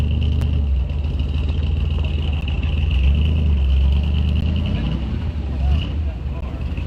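Heavy low rumble of a 1970 Dodge Super Bee rat rod's engine, a daily driver used as a tow vehicle pulling another '70 Super Bee out of a barn, steady and close throughout with voices talking over it.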